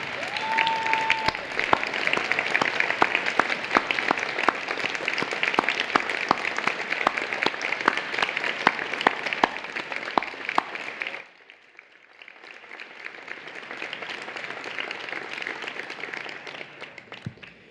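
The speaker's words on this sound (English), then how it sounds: "I would like the deans, the faculty, and especially the students to join me in applauding you, family members, and friends" Audience applause at a San Francisco State University graduate recognition ceremony, a full steady crowd clapping with some sharp individual claps standing out, then cutting off abruptly and returning as a quieter, thinner round of clapping that fades.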